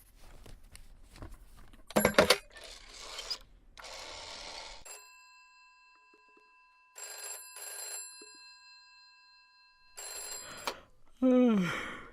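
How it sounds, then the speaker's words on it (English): A telephone rings during an outgoing call in the video game This is the Police: loud ringback bursts separated by gaps, following a clatter of handset and dialing noises, then a voice answers at the end. "I just need to make one phone call and I'll be right out, okay?"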